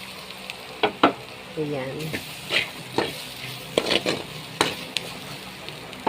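Onions and meat sizzling and frying in a pan, with repeated stirring scrapes and clanks over a steady hiss; a voice speaks briefly.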